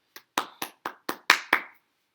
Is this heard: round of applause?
yes